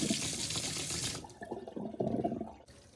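A thin stream of water falls onto a ping pong ball resting on a wooden board, a close splashing patter that shifts and thins midway, then sputters in uneven bursts.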